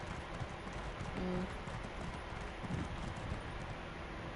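Horse hooves clip-clop at a steady trot in the video game Elder Scrolls Online, a continuous rhythmic patter under wind-like ambience and game music, with a brief tonal chime partway through.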